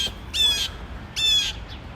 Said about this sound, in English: You're loud, little blue bird.